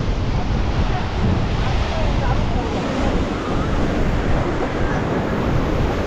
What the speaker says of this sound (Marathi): मंदिराला एक्झॅक्ट लागून लाटा उसळतात इकडे, बहुत खतरनाक आहे बघा.